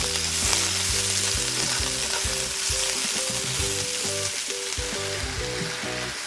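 Spinach fries in a pan for a paleo salmon and sun-dried tomato dish, a loud, continuous close-up sizzle and hiss that never lets up, with a stepped melodic tune playing underneath.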